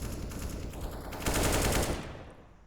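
AK rifle fire in a Counter-Strike esports match comes as a loud, rapid automatic burst. It peaks in the middle and then cuts off into quiet, with no talk over it.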